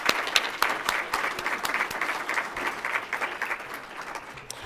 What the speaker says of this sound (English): Another round of applause for Leah and Veronica.